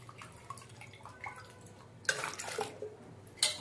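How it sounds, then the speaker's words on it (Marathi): Washed potato slices for homemade wafers tipped into a bucket of clean water, a faint drip before two bursts of splashing, the first sustained and the second brief, close by. "आता मी हे काप बादलीमध्ये टाकून घेणार आहे।"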